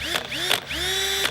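A Ryobi cordless drill runs in short bursts, its motor whining upward in pitch as each burst spins up, with clicking mechanical transients between, loud and close.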